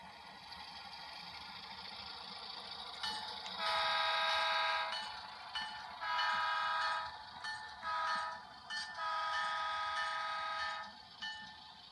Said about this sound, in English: the train's just going to go all the way through